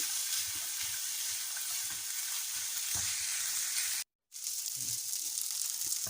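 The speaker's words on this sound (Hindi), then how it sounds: "अब इसमें कुछ चले जाएंगे बादाम, 30 से 35 अदद काजू। इनको भी इसके साथ हम थोड़ा सा भून लेंगे।" Almonds and cashews roast with minced meat in a pan, making a quiet, continuous sizzle and frying hiss with occasional stirring taps and a short dropout near the end.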